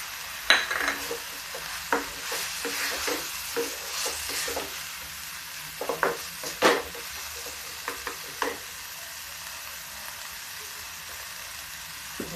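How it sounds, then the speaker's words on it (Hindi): Tomatoes go into a frying chana dal paneer masala, giving a bright sizzle followed by repeated spoon scrapes and stirring clinks against the pan that fade toward a quieter simmer. "अब इसमें डाल देते हैं टमाटर इसी से।"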